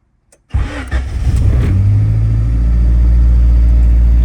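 A Honda EF hatchback with a swapped D16Z6 engine and a cheap aftermarket exhaust cranks and fires up, then settles into a loud, steady, rumbling idle close by.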